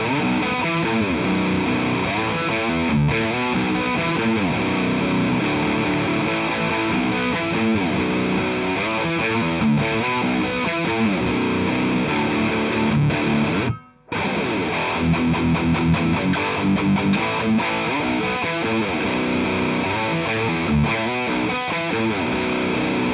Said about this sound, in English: The dirty channel is very British sounding